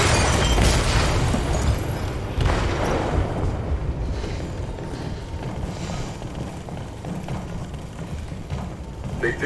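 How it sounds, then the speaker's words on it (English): An explosive detonated in a ship's hold in Detroit: Become Human leaves a heavy, rumbling boom that slowly decays into a low roar and creaking mechanical noise. "They detonated an explosive in the hold."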